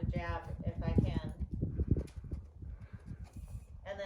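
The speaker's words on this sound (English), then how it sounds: "He's just, a young horse." Hooves of a young ridden horse clip-clopping in a steady walking rhythm, close by and moderately loud, with people talking over the footfalls throughout.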